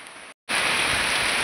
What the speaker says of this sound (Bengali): খুব জোরে বৃষ্টি হচ্ছে এখানে।